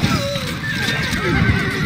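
Horses whinny in the medieval siege game Stronghold Crusader, with a high neigh rising over a dense bed of battle noise, hoofbeats and mixed game voices.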